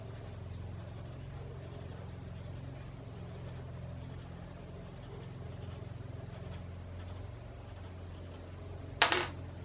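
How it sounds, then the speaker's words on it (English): Pencil shading on paper in quick, rhythmic scratchy strokes, close and quiet, repeating evenly, ending with a brief sharper scrape. "grab your pencil, do your shading"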